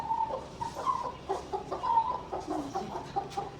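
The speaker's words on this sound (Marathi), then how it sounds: "आता या कोंबड्यांना दोघींना पण घेऊन जात आहे ती." Two domestic hens cluck while being carried, giving a close, fairly steady run of short throaty clucks and calls, heard alone with no talking.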